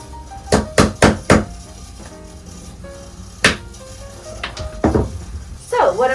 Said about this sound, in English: Chisel out these screws or something.